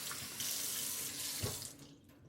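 Kitchen tap running into a sink while celery stalks are rinsed, a steady close splashing hiss with brief shifts as the stalks move under the stream.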